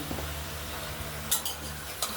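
Spiced vegetarian Malabar spinach curry base with turmeric being stirred in a wok, a steady low scraping and sizzle with a couple of sharper clinks of utensil against metal, close and continuous with no talking.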